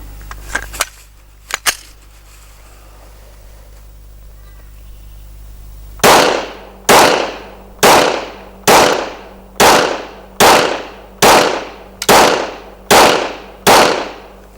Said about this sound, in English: let me just load up some ammunition and just have a couple of shots here with the Gen 5 to start with